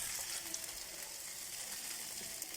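Poha spice balls roast in a pan with a steady, soft sizzle and a light frying crackle that runs continuously, fairly close and even in level, with no voices.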